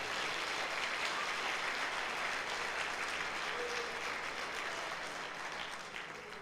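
A church congregation at a Sunday service applauds together in a long, dense, even wash of clapping that holds steady before easing off slightly toward the end.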